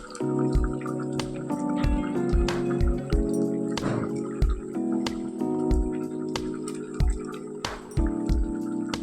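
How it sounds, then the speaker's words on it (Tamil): Thick ground coconut paste poured into a simmering quail gravy, with wet splats and soft glugs over a bubbling, sizzling background and repeated low thuds. "இந்த அரைச்ச தேங்காயை இப்போ அதில் ஊற்றுவோம்"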